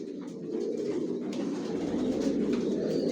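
Racing pigeons of a Johnson long-distance line coo steadily inside a loft housing hundreds of breeding pairs, a dense, continuous low murmur of overlapping calls close by, with no talk.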